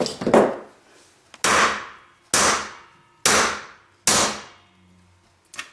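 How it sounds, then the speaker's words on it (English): A brass hammer strikes metal held in a pancake bracelet die, five loud, sharp metallic blows about a second apart, each ringing briefly before fading, with no voices. "So let's see what happens when we use now the brass hammer."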